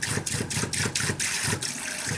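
Water from a newly replaced kitchen faucet runs into the sink, a loud, close, steady rush with a faint pulsing churn and no voices.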